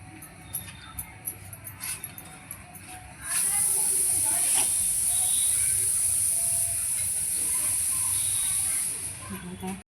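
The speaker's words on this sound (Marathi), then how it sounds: "चला आता आपण फॅनमध्ये ठेवूया छानपैकी" Bombay duck fish, prepared Malvani crispy style, frying in oil in a pan, with a loud, steady high sizzle that erupts suddenly and holds close and continuous until it fades at the very end.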